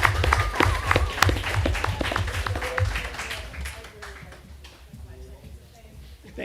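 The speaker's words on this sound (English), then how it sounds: "One more big round of applause." Audience applause fills a school board meeting room, loud dense clapping from many hands that gradually thins and fades toward the end, with voices mixed underneath.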